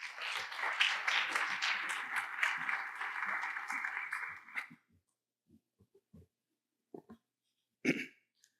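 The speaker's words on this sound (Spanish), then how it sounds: "Un fuerte aplauso." Conference audience at a geotechnical engineering lecture gives a burst of applause that stops abruptly after about four and a half seconds, followed by near silence broken by a few coughs and small noises.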